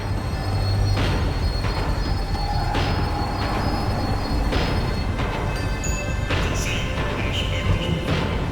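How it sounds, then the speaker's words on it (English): A tram in the Max Payne 3 video game rumbles and rattles on its rails while slowing down, with wheels squealing and metallic clanks over a steady low drone, close and continuous. "The tram was slowing down, and I'd only just gotten on board."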